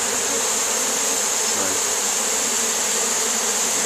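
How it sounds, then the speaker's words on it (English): A dense, steady buzz of honeybees fanning their wings close up, an unbroken droning hum without pause. "putting it close to this area here where the bees are fanning"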